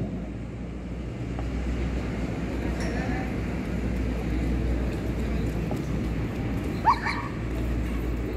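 German Shepherd dogs give scattered barks and yips at an outdoor dog show, set back in a steady wash of crowd and ambient noise, with people talking around them.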